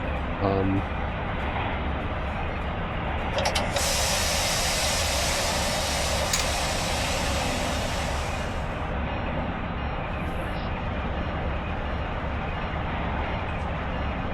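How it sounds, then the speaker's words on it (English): A long, broad hiss of a train's air brakes releasing from about four to nine seconds, over a steady rumbling engine drone, in the Run 8 Train Simulator with Santa Fe / SP Dash 9 locomotives. "Take the parking brake off."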